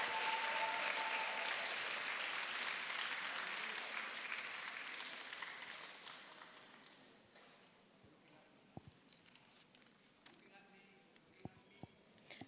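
An audience at a mathematics awards ceremony gives loud, sustained applause for the top grade-four awardees, which fades away over several seconds, leaving a quiet room with a few scattered claps and knocks.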